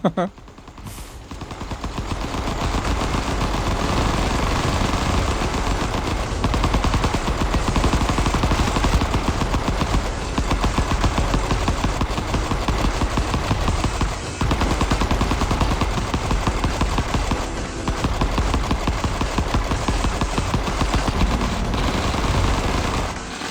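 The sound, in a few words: bullets and machine gun fire in the video game Vital Shell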